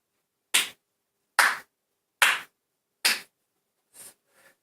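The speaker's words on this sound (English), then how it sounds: "That was the slow clap of the night" Slow, deliberate clapping at an awards show: five or six single claps spaced nearly a second apart, the first four loud and sharp, the last ones softer and fading, with no talk.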